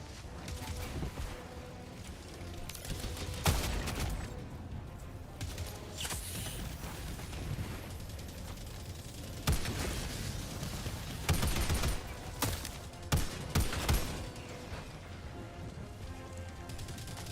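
Gunfire from the video game Helldivers 2: a few sharp, loud shots ring out at irregular intervals over a dense, hissing wash of battle noise and rumble.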